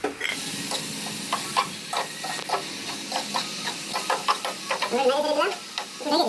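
Hilsa fish is stirred into frying spice paste, a soft sizzle under a run of scraping stirs and clinks, with a voice briefly heard near the end.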